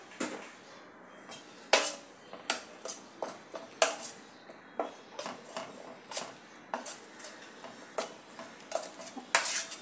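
Onion puri batter is stirred with salt in a bowl, a utensil clicking and tapping against the dish in an irregular, close, fairly quiet rhythm with no talking.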